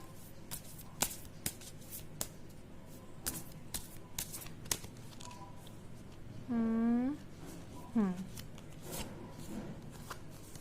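Tarot cards shuffled and drawn at a reading, giving a run of crisp, scattered card flicks and snaps at close range, with a brief voiced murmur partway through.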